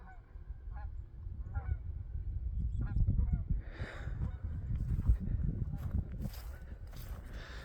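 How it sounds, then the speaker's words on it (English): A flock of geese honks repeatedly while flying overhead above a winter park, the calls rising from faint to fairly clear over steady low rumble and light footsteps. "Got some geese flying over."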